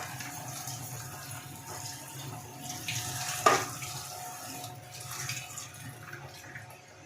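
Tap water runs softly over peeled vegetables being washed in a kitchen, a faint continuous trickle with a brief splash and clatter in the middle.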